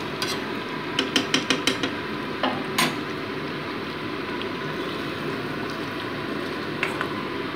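Chicken curry with potatoes being stirred through hot-water gravy in a pan, a quick run of utensil taps against the pan early on, then a steady low simmering bubble and faint scraping, with one more clink near the end.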